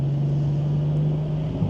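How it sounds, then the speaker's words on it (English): BMW 335i engine idling to warm up after an oil change, a steady low hum that stays even and fairly loud throughout with no talk. "get some heat in the engine"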